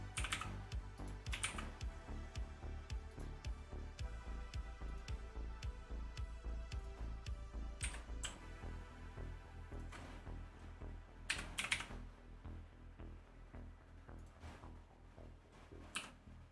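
Fast, continuous clacking keystrokes on an inexpensive Redragon computer keyboard, close and busy with irregular bursts and short pauses, no voices.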